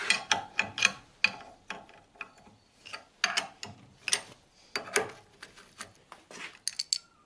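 Metal parts of a car's front suspension ball joint assembly being taken apart by hand: a rapid series of sharp clanks, clicks and ratcheting knocks, close and loud, with short pauses between bursts.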